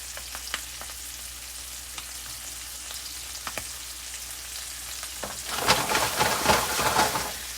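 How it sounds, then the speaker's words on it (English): Quiet clicks and light crackles at first, then loud, bright sizzling bursts out near the end as blackened snapper fillet hits a hot pan, like food dropped into hot oil. "you don't really hear that sizzle, then your pan is not hot enough."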